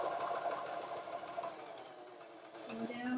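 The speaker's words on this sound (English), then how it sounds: "And again, I back stitch here." A home sewing machine back stitches fabric, giving a steady, faint motorized whir that runs throughout. It slows near the end while a voice talks over it.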